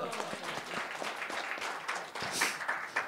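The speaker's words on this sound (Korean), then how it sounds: "박수 한번 쳐주실래요?" A lecture audience at a training institute claps on request, uneven scattered hand claps with some voices and crowd murmur mixed in, moderately loud and close.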